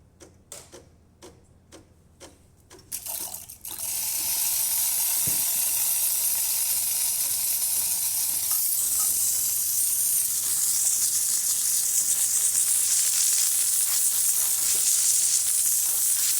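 An Ascaso espresso machine's steam wand, tested after a thermostat repair, starts with a few sharp ticks and clicks, then bursts into a loud, steady hiss that continues close and unbroken to the end.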